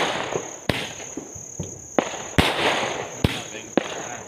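Rows of firecrackers burst outdoors in a series of sharp, loud bangs at irregular intervals, with crackling in between, insects chirping faintly and voices in the background.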